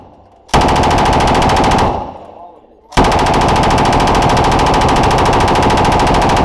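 Machine gun fire at a shooting range: a loud, close continuous burst, a brief pause as it dies away, then a second sustained burst of rapid automatic fire to the end.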